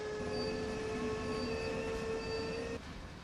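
A steel-hauling freight train rolls past a trackside viewpoint in Train Sim World's Ruhr-Sieg Nord route in Germany: a loud, steady rumble of wagons with thin ringing wheel tones, then a sudden drop to a quieter roar near the end.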